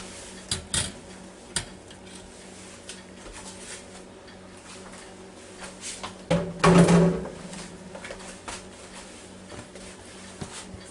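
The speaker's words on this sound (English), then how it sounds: "Now let me get this top rack off." A metal top rack is lifted out of a Ninja Foodi Deluxe cooker, with a few clanks and rattles of metal on metal, the loudest cluster near the end, against a quiet background.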